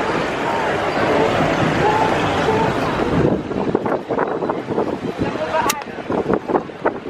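Steady wind rushes across the microphone for the first few seconds, then gives way to choppier gusts and bursts of nearby noise.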